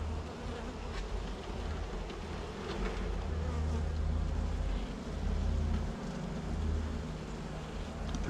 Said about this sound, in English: There are so many bees in here, I don't understand.